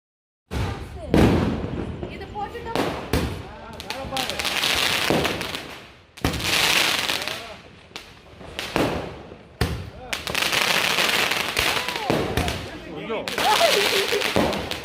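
Diwali firecrackers burst outside a house in Attapadi, seen from a window, in dense rapid crackling volleys with sharp bangs, loud and continuous for about fifteen seconds with short pauses between bursts.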